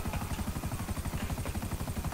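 Helicopter rotor in the video game GTA 5 gives a steady, rapid low chopping pulse with a broad engine whine above it, continuous and fairly close, no speech.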